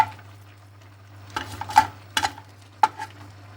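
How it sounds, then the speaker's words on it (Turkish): Minced meat being stir-fried in a pan until its liquid cooks off: a faint background sizzle broken by a few distinct scraping and clinking stirs of a utensil against the pan, no talk. "kıymayı ocağa alıyorum ve suyu çekilinceye kadar ara sıra karıştırarak kavuracağım"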